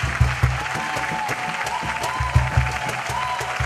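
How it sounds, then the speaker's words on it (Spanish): An audience applauds at a cultural event at UOCRA, with steady, full clapping and a few sharper accented claps over a low rhythmic undertone, close and sustained throughout. "Le damos un fuerte aplauso a Ariel Sánchez en producción."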